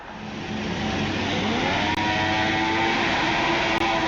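Race car engines revving together on the grid at the start of the 2016 Chinese Grand Prix in an F1 video game, a loud, dense, sustained roar that builds and holds, with no talk.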